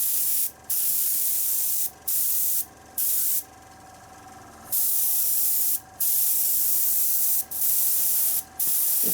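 Black paint sprayed from a can onto a model railway carriage chassis in short repeated bursts, each a bright close hiss separated by brief pauses, with one longer burst in the middle.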